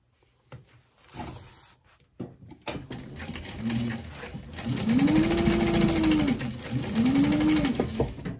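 Sewing machine stitching a backpack gusset seam with a 3/8 inch allowance: a few handling knocks and clicks, then two bursts of rapid whirring stitching that rise and fall in pitch, close and fairly loud.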